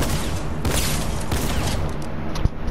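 Gunfire in the video game Fortnite crackles in several quick bursts over a busy game soundscape, with one sharp crack near the end, fairly loud and close.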